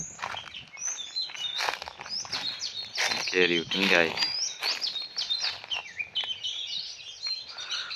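Sparrows chirp in a mango orchard in Gir, a busy chorus of quick, bright calls that carries on throughout while someone talks over it.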